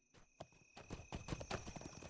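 Horse hooves clip-clopping at a walk in the online game Lord of the Rings Online, a steady run of close, even hoof beats over a constant high tonal game hum.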